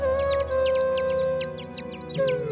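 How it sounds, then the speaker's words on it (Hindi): A small bird calls repeatedly near its nest, high-pitched chirps over a steady background tone, at moderate distance with no talk. "वो चिड़िया अपने बच्चों को उड़ना सिखाना चाहती है"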